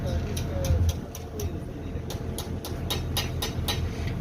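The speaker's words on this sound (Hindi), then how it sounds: "ये 7D का इंजन है" A 7D engine running while fitted in a trailer rig gives a steady, loud low rumble with a regular pattern of sharp ticking bursts on top, and voices can be heard nearby.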